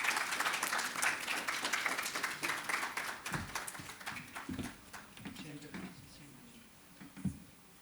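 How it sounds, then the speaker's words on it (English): An audience at a formal launch event for a legal gateway office in India gives sustained applause to welcome dignitaries onto a dais. The clapping is dense at first, then thins out as a voice begins speaking. "may I request you to welcome our distinguished dignitaries with a warm round of applause"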